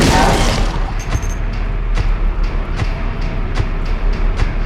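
Prisoners banging on metal bars and hollering in Silent Hill 2, a loud rumbling din with repeated sharp clanging hits every half second or so over a low roar.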